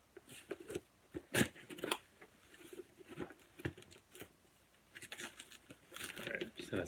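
Quiet, irregular scratching, snipping and crinkling as a Craigslist shipping package is cut open, the scattered bursts close by and uneven in rhythm.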